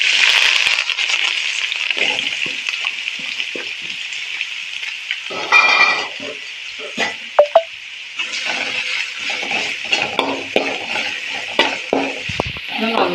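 Onion, carrot, beans and curry leaves sauté in a pan for upma, making a bright, continuous sizzling hiss close by, dotted with light taps and clicks as the mixture is stirred.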